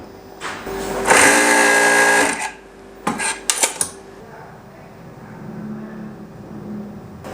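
A Pegasus W562PC-01G flatbed coverstitch hemming sewing machine runs hard for about a second in a loud, dense mechanical whir, then gives a few short sharp bursts before settling into a low background hum.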